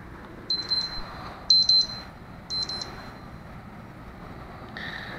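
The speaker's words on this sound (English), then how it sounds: "There goes my 3-minute timer anyways." A kitchen-style timer set for three minutes beeps in three short clustered bursts of high electronic tones, fairly close, with a faint steady hum beneath.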